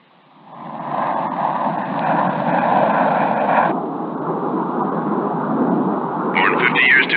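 A biplane's engine drones overhead in a loud, continuous, muffled roar that swells slightly toward the end.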